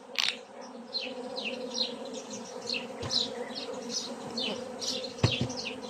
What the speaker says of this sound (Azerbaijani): Təzə doğulmuş ana arılar.